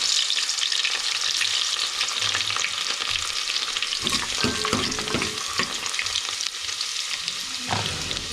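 Steady sizzling of garlic frying in hot oil for a tempering, with occasional louder crackles and stirring scrapes around the middle; no one speaks.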